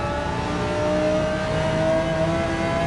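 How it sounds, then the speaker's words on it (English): Audi V10 race car engine in a racing video game, revving hard with a raucous, steady high-pitched drone that holds loud and continuous throughout with no talking. "there's the little bit more raucous V10 of the Audi"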